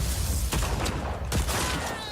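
Gunfire in the open-world action game Just Cause 4, a dense fusillade of rapid shots with a couple of sharper bursts over steady low rumble, loud and continuous for about two seconds with no talk.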